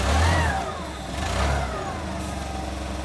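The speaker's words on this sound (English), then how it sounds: "I'm now going to start the machine to check the brake lights and other warning devices." A forklift engine cranks and catches with a low rumble, surges briefly, then settles into a steady mid-pitched idle close by.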